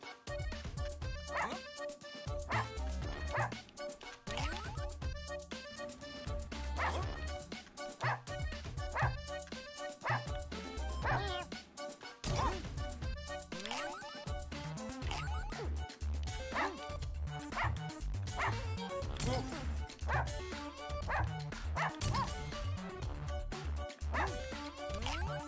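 Cartoonish dog yips and bow-wows from the video game Russian Subway Dogs, recurring over a steady, busy game soundtrack with percussive hits throughout, loud and continuous.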